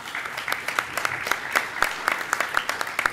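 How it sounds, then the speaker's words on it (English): Short burst of audience applause at an academic literacy research conference business meeting, a room of clapping hands with scattered sharp claps, moderately close and alone without talk. "Let's give them all a round of applause."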